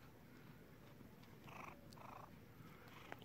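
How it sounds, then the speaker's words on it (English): A cat purring softly at close range, a low steady rumble with faint higher bursts, quiet and continuous without talk. "See if you can hear his purrs."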